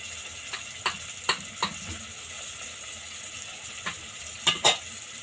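Turmeric, cumin, coriander powder and ginger-garlic paste sauté in a pan for a lentil-rice khichdi, a steady close sizzle broken by several sharp spoon scrapes and clicks as the mixture is stirred.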